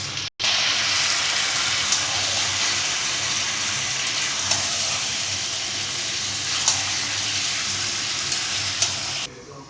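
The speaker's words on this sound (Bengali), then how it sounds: "এবার দই দিয়ে ভালো করে নেড়ে নেবে।" Chicken being stirred with yogurt in a hot pan gives a steady, continuous sizzling hiss with soft scraping touches, close and fairly loud throughout, with no talking.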